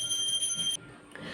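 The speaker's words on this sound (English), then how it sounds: "that's the sound of the bell that we use in order to do puja in India." A puja bell rings in a home during worship in India, a steady bright metallic tinkling that continues for under a second and then stops, moderately faint.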